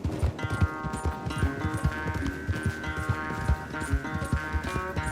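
Horse hooves clip-clop at a brisk, steady gallop in the Red Dead Redemption 2 video game, close and continuous over a held tonal background.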